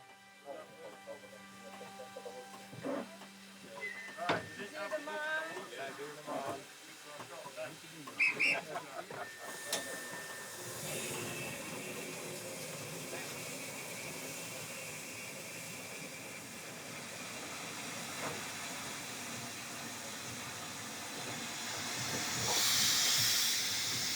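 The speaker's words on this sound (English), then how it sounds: "the Jacobite steam train, which came into service over 30 years ago" Sharp hissing bursts of steam and clanking from the Jacobite steam locomotive, then a long steady rushing hiss as the train moves, with voices talking over parts of it.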